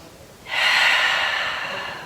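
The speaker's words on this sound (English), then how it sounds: "One more deep breath in." A single deep, steady breath drawn in during a yoga session, a soft airy rush that swells up after half a second and holds close and even to the end.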